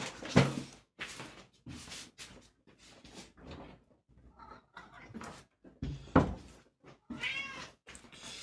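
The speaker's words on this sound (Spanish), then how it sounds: "Y llegó el gato." A cat meows repeatedly, several loud and close calls in an irregular sequence with short gaps, plus a few soft knocks in between.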